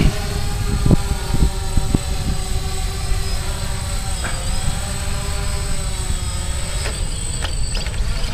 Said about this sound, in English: that was her very first flight with a DJI Phantom